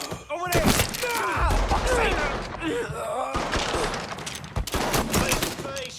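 Heavy gunfire in a Mafia 3 shootout: dense bursts of rapid shots and automatic fire crackle continuously at close range, with shouted voices mixed in among the blasts.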